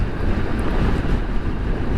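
Wind blows steadily across the microphone at an open scenic spot in Rizal, Nueva Ecija, a continuous broad rushing roar with no voices.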